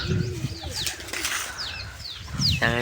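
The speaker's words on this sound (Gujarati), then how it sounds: "આપણે બારડું કબૂતર કે અહીંયા બધા કબૂતર બેઠા છે" Pigeons coo in low, throaty bursts close by, with quick sparrow-like chirps flitting over a busy background of birds.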